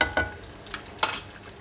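Soft sizzling of onions frying in oil in a pan with a few brief stirring scrapes, close and fairly quiet.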